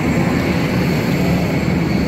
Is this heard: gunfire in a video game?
no